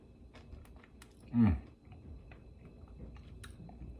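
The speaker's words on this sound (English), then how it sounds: "you can simply just take a little bite out of it" A single crisp bite into the skin of roasted kabocha squash, a short close crunch standing alone against a quiet room.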